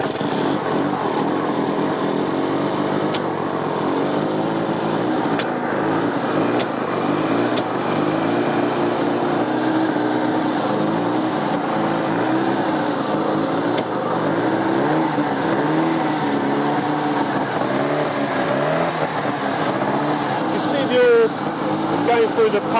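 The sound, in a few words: classic BSA motorcycle engine kick-started and running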